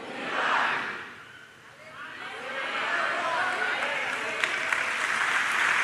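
A church congregation claps steadily, with the applause swelling, dipping briefly, then continuing loud and sustained beneath crowd voices and shouts of praise.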